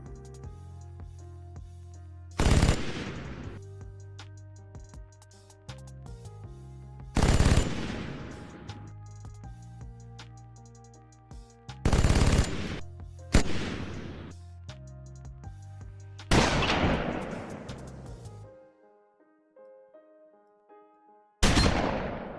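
Halo 2's BR battle rifle fires in sharp, loud three-shot bursts spaced several seconds apart, each crack ringing out and decaying over steady ambient game music.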